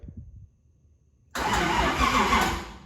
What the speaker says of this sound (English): So if I did everything correct, this should spin the motor over.